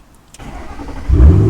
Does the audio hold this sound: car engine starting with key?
yes